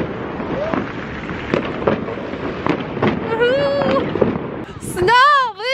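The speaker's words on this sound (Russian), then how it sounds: "Сейчас посмотрим, что за салюты у нас." New Year fireworks bursting outdoors in rapid irregular cracks and bangs, with whistling rockets rising and people talking and shouting over the noise.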